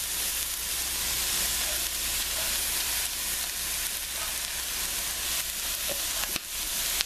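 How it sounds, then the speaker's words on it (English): Okra sautéing in a pan for shrimp and crawfish gumbo gives a steady, dense sizzle that holds evenly throughout, close and alone with no talk. "we're going to saute this, and the okra is going to cook"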